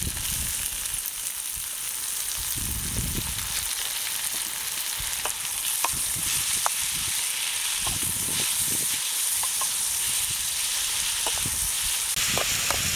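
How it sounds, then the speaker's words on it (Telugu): Tomato pieces frying in a pan for ragi chapathi, a loud continuous sizzle and hiss heard up close, broken by soft stirring thumps and scrapes throughout. "టమాటా ముక్కలు కొంచెం ఉడకనిద్దాము"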